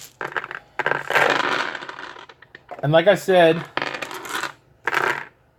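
Plastic dice for the Pioneer Days board game rattle and clatter on a table in several short bursts, with someone talking in between.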